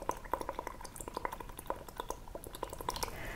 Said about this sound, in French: vous prenez votre verre, vous allez juste souffler et regarder vos bulles.